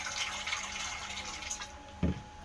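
Water runs from a tap into a bowl, a soft splashing stream heard up close for a couple of seconds, with one short thud near the end.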